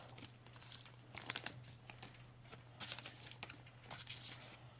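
Crinkly paper rustling and tearing in short bursts as paper surprise packets are opened close by, with sharper crackles in the middle and a steady low hum beneath.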